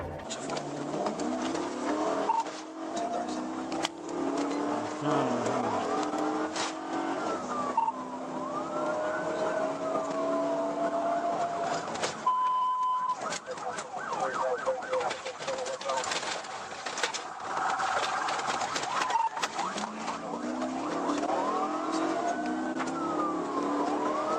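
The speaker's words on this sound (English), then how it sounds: "The driver suddenly hit the gas and sped off, triggering a high-speed pursuit." A police pursuit recorded from a dash cam: rising and falling siren wails over steady car road noise, with a voice talking at times over the chase.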